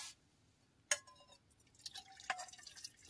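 Black coffee dripping and spilling over inside a tent during a solo night camp in a forest, heard as a sharp splash followed by scattered small drips and wet trickles, close and fairly quiet.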